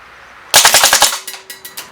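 A Baikal Drozd IZH MP-661K BB machine gun fires a rapid burst of about six sharp, loud shots in quick succession, followed by a few spaced, fainter cracks, with no talking.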